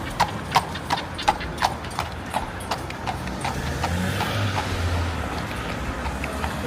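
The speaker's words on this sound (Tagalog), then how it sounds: "Kabayo pa ito yung kabayo. Baho nga lang. Ayan. May kalesa tayo." Horse hooves clip-clopping in a steady, close rhythm from a kalesa, a horse-drawn carriage on a city street, the beats fading slightly as a low traffic rumble rises beneath them.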